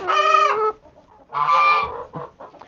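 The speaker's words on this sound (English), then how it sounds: "Here's the chicken who's making a lot of noise." A hen in a backyard flock squawks loudly and insistently, two long harmonic calls with shorter clucks trailing after, close by and alone with no talk, as she waits to get into the nest box to lay an egg.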